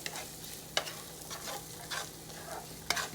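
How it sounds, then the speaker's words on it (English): Shrimp fried rice stirred in a pan, a quiet sizzle with a few distinct scraping strokes of the utensil and a couple of sharper clanks against the pan, close and unaccompanied by talk. "I'm going to go ahead and stir that up."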